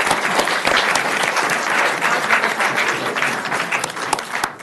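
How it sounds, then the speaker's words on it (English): An audience at a city council meeting claps in a loud, sustained burst of many hands, dense and continuous before tapering slightly at the end. "You can clap."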